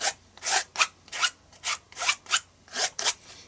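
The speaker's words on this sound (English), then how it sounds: "let's grab some mat making tools and a palette knife. So let's just start scraping paint." Paint being scraped across an art journal page with a palette knife, about eleven separate rasping strokes in an uneven rhythm, close and clear with no talking.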